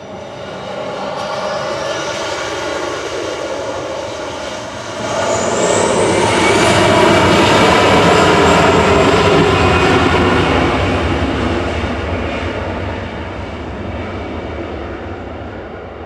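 An airliner on flight 8749 to Barcelona departs Manchester Airport, its jet engines roaring up sharply midway with a rising whine, holding loud and near before easing slightly.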